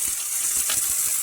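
Potatoes dropped into hot oil alongside fried cauliflower set off a short burst of loud, steady hissing sizzle, close up and with no talking.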